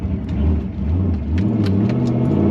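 Deep, throaty exhaust of an LS V8 swapped into a Nissan 350Z idling close by, a low rumbling burble that lifts slightly midway, with no voices.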